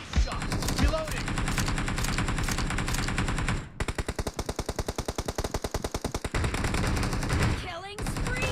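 Sustained automatic gunfire from the BGMI battle royale game, a dense rattle of rapid shots with a brief gap and then evenly spaced bursts, loud and close, with game voice callouts faintly underneath.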